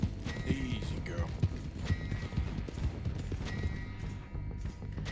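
Hooves of a Silver Dapple Pinto Missouri Fox Trotter clip-clop in quick, irregular steps in Red Dead Redemption 2, with a short whinny, and a voice talks over them.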